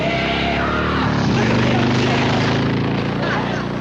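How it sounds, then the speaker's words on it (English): A loud, droning motorcycle engine roars steadily throughout, its pitch shifting slightly as it races close by along a driveway, with voices faintly mixed underneath. "Some crazy kid is racing up down your driveway on a motorcycle."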